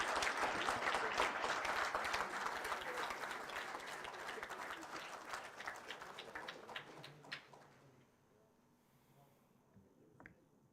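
Loud audience applause at a symposium in Chennai, dense clapping that gradually thins and fades out over about eight seconds, leaving a few isolated claps in near silence.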